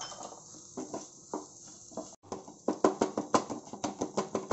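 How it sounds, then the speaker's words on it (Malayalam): Boiled potatoes are stirred into masala in a pan for a veg burger filling, heard as a close series of rhythmic spoon clacks and scrapes quickening into regular beats. "അതിലേക്ക് നമുക്ക് നേരത്തെ വേവിച്ച് വെച്ച നമ്മുടെ ഉരുളൻകിഴങ്ങ് നമുക്ക് ഇട്ട് കൊടുക്കാം. എന്നിട്ട് നന്നായിട്ട് ഇതേപോലെ തന്നെ ഇളക്കി കൊടുക്കാം."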